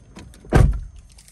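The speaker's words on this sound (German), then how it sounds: "Tür auf," A car door is opened in a single close, brief mechanical clunk with a short rush of noise, set against a quiet background.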